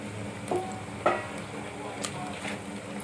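Chicken sizzles steadily in a clay pot, with a few sharp scraping and clinking stirs cutting through the constant hiss.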